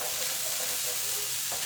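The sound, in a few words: veggie fried rice with tofu stirred in a pan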